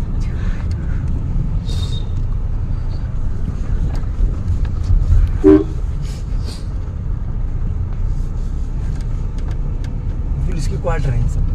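Steady road traffic rumbles past on a street in Aligarh, with many cars and a constant low engine drone, wind buffeting the microphone and brief horns or squeaks breaking through.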